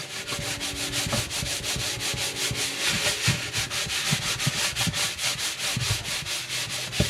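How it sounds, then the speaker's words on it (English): A sponge scrubs burnt-on grime from the back of an oven with The Pink Stuff cleaning paste, making quick, rhythmic rasping strokes that repeat steadily and close up, with no talking. "it might take a little more scrubbing than that little strip along the front of the door"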